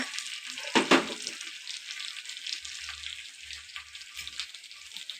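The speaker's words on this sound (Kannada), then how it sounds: "ಉಪ್ಪು ಹಾಕಿ ಸ್ವಲ್ಪ ಚೆನ್ನಾಗಿ ಫ್ರೈ ಮಾಡ್ಕೋಬೇಕು" Tomatoes frying with salt in a pan for palak pulao, a soft steady sizzle running throughout with a louder burst of stirring or clatter near the start and faint low bumps later.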